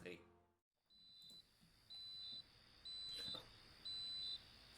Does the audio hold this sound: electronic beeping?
yes